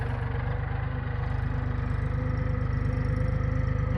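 A farm tractor engine runs steadily in a Gujarati field during castor sowing, a constant low, throbbing drone with a fine rhythmic chug and no pauses.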